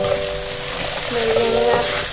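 Vegetables hit a hot oiled pan and sizzle steadily, loud and close, as a continuous hissing fry with a faint stirring scrape and a low background hum.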